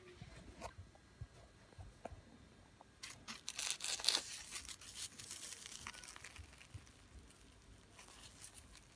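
Knife slicing open a fried custard-filled beignet, a soft crackling tear of the crisp crust that builds into a louder crunchy burst near the middle, then fades to light rustles, close and without talk.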